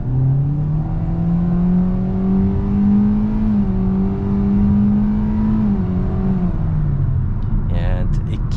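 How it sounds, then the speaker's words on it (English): A 2023 Hyundai Kona with a 2.0 naturally aspirated four-cylinder and IVT accelerates on a highway; a steady, loud engine drone rises slowly in pitch under constant road and wind noise, heard from inside the cabin. "Let's do another acceleration right here."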